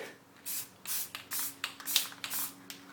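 Spray paint can spritzing black paint onto a wooden plank in several quick short bursts of bright hiss with brief gaps between them, close and crisp.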